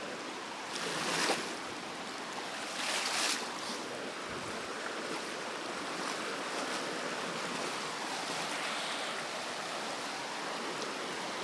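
A river flows as a broad, steady rushing wash of water, fairly loud and continuous, with a couple of slightly stronger surges early on and no voices.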